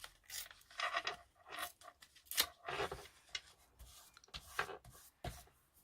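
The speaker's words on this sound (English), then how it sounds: "Let me just rip this bit off." Paper torn by hand for a junk journal page, several quick close rips and rustling tugs in bursts separated by short pauses, faint and with no voices.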